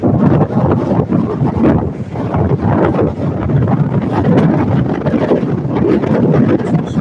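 Strong wind at a beach with choppy surf, loud gusty buffeting and rumbling across the microphone in uneven surges, continuous throughout with no talk.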